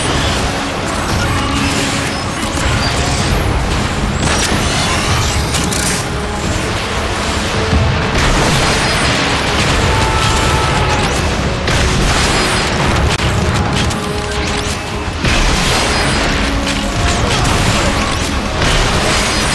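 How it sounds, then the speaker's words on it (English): Rocket explosions in the Transformers: Fall of Cybertron game give a loud, relentless barrage of booms and crashes with mechanical clatter, one blast after another and no pause. "These rockets got me pinned down."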